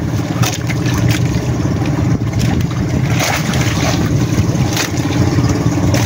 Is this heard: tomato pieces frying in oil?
no